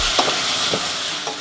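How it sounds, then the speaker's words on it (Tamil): Onions sautéing with green chillies in a pan give off a steady, fairly loud sizzle, with a few soft stirring scrapes and no talk. "வெங்காயம் கொஞ்சம் நல்லா வதங்கட்டும்"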